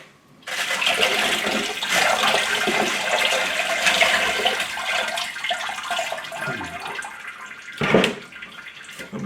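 Water pours steadily onto mixed tumbling rocks being rinsed between grit stages, a continuous close splashing and trickling that runs for several seconds, then a brief louder splash near the end.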